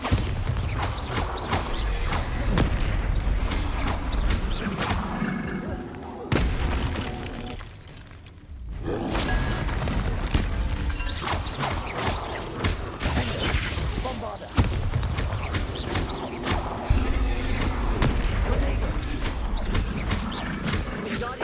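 Bombarda blasting spells go off in a Harry Potter video game against a troll, a run of sharp booming impacts mixed with roaring creature growls and busy combat noise, with one brief quieter lull.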